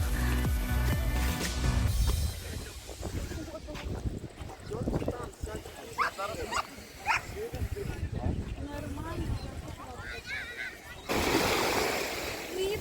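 Sea waves wash onto the shore in Odesa on a day with cold water, a broad steady surf hiss swelling at the start and end, with a dog yipping and people talking nearby.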